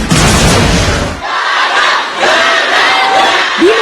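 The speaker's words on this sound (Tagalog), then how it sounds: "Di nagkamayaw sa hiyawan ng fans ni Lady Gaga sa pagdating niya sa Pilipinas nitong Sabado." Fans screaming at Lady Gaga's arrival in the Philippines, a loud, dense crowd roar that carries on throughout, with cheering shrieks and whistles rising above it.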